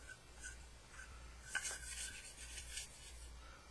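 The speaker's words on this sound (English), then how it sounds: "Clean behind there, behind the trigger." A small brush scrubbing behind the trigger of a Sig Pro 2340 pistol, faint quick scratchy rasping strokes with a light click midway, close up and quiet, no voices.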